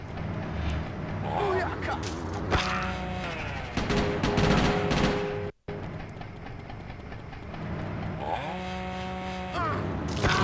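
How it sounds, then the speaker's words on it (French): A chainsaw in the video game GTA Chinatown Wars revs in bursts with a buzzing whine among game engine noise and impacts, while someone talks over it. "Ça va pas être facile la tronçonneuse, je crois."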